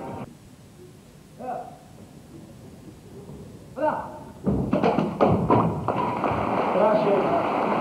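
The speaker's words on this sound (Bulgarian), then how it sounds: "С 4 удара той успя да щупи всичките дъски, които бяха приготвени за тази цел." Karate club members strike and snap stacks of wooden boards at a live demonstration, several sharp thuds and cracks clustered near the end over a busy background of crowd noise and a voice.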